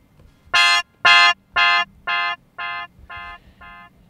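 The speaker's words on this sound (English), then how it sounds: "Alright, so we'll throw on echo." A wavetable synth note run through Ableton Echo with fairly high feedback repeats seven times at an even pace, each bright, buzzy repeat slightly softer than the last as the delay tail decays.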